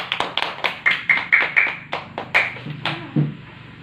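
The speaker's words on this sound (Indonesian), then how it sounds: "Kita beri tepuk tangan." Students in a classroom clap their hands, about a dozen sharp, close claps in a quick, uneven rhythm, with a brief vocal sound near the end.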